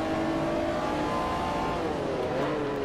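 Race cars in the Forza Motorsport 4 video game rev loudly and accelerate together off the start at Hockenheim's national circuit, a dense continuous engine roar with rising pitch sweeps and no talking.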